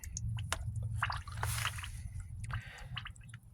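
Sediment-laden water draining out of a gas water heater during a flush, heard as a close, steady wet gurgling and squishing stream with scattered drips throughout.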